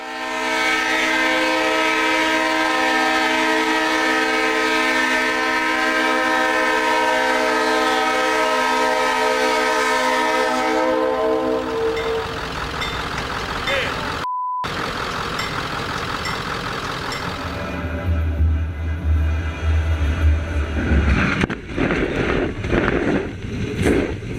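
A P&W snowplow train rolls along the tracks with a long, sustained horn blast for the first half, then rumbling wheels and clattering rail noise as it passes close by, loud and building.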